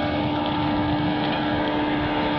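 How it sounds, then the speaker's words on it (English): A boat engine drones steadily at a lakeside boat launch, a continuous low hum with a few sustained tones and broadband wash, steady and fairly close throughout with no talk. "looks like there's someone either putting in a boat or taking one out over here."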